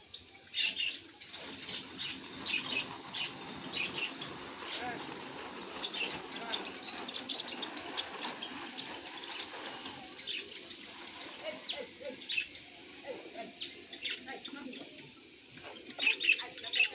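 Budgerigars chirp in a home aviary housing about five pairs, a steady high twittering chorus running throughout with brief louder flurries, mixed with faint background voices.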